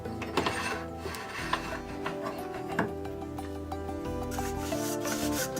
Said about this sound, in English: So I think it's time to start sanding it now.